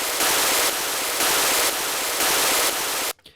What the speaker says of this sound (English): We're going to use a pulsed white noise burst, which doesn't sound particularly musical.